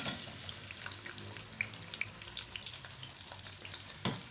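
Chopped onion goes into hot oil and fries with a continuous crackling sizzle, punctuated by small pops and scattered splatters at close range.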